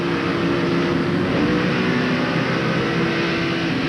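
Rusty Wallace's NASCAR Winston Cup stock car at Sears Point in 1995, heard onboard: a loud, sustained engine drone with steady harmonic tones and little change in pitch, filling the whole stretch without talk.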